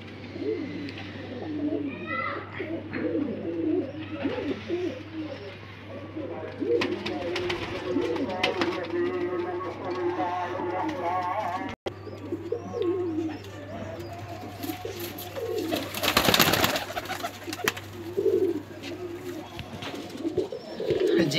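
Flying pigeons of a cross-bred breed coo steadily and softly over a continuous low hum, with faint background chatter and a few rustling flutters throughout.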